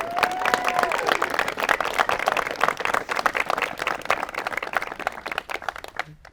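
Wedding guests at an outdoor-style ceremony applaud the couple, brisk and lively clapping from a modest crowd with a few voices mixed in, continuing throughout and tapering off at the end.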